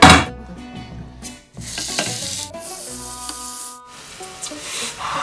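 Minced meat stirred and fried in a pan, a close, loud sizzle with scraping stirs, repeated in several strokes and brief pauses.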